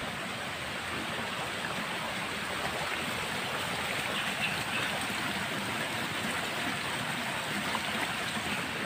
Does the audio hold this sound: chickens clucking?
no